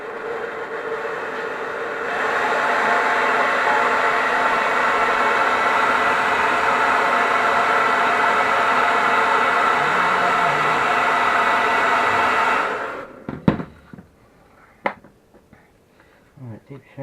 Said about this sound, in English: after I've just done a quick hairdryer